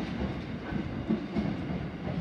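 Freight train 8126 rolling past at Marrickville on its way to Port Kembla, a steady close rumble of wagons with faint rhythmic clicking of wheels over rail joints.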